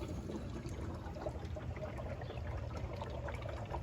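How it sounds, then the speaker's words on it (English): Air bubbling back through the washer fluid line into the reservoir of a 2019 RAM 1500 Limited, pushed by an air hose: a steady close gurgling, trickling wash that runs without a break, with no talk over it. "we can hear the air bubbling back in"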